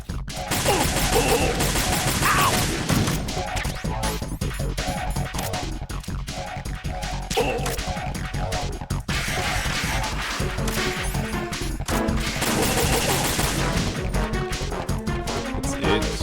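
Bombs going off in Metal Gear Solid, a dense barrage of loud crashing blasts and rapid popping bursts layered over game music, continuous and close.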